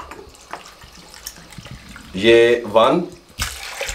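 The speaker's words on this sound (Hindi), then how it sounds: "इसके अंदर पानी शामिल कर दें" Water poured into a pressure cooker holding lentils for dhaba-style dal palak, a short gushing splash rising after quiet kitchen sounds, with a voice speaking briefly alongside.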